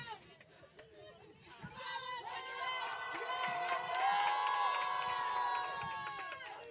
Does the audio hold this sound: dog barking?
no